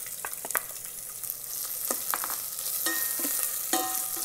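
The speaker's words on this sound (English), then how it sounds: "Fry onion for 2 to 3 minutes" Onion frying in an Instant Pot with green chili and curry leaves: a steady high sizzle runs throughout, punctuated by sharper crackles and scraping stirs, fairly close and moderately loud.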